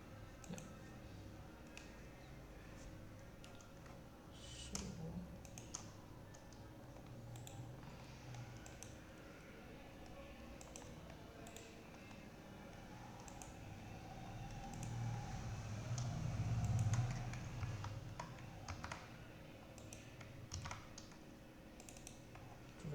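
Typing on a computer keyboard, a steady run of light clicks and taps at moderate distance over a low background hum, with a slightly louder stretch near the end.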